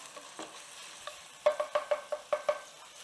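Onions and jalapeño soften in a pan over a faint background sizzle, then a quick run of about seven sharp metallic taps from a spoon striking the pan edge follows in steady rhythm, close and clear, with no talking.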